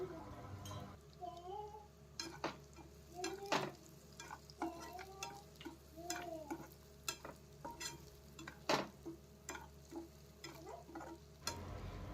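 Prawns with masala, chilli powder and coriander powder are stirred in a pan: a soft sizzle runs under repeated sharp spoon scrapes and clinks against the pan, while a voice talks intermittently over it.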